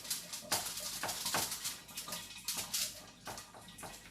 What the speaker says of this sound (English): Then wash your hands.